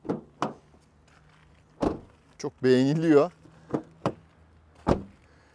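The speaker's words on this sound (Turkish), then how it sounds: "Kapı sesine de bir bakalım." Doors on a 2016 Volkswagen Passat Highline 1.6 TDI with 164,000 km, the front door slightly out of adjustment, shut with a series of separate close, solid thumps. A brief spoken phrase falls between them.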